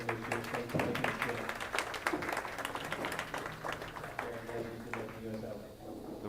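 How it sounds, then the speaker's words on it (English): Audience applause at the 2010 Virginia State 9-Ball pool championship, a steady round of clapping from a moderate crowd that fills the whole stretch while a commentator talks over it. "We have a nice round of applause"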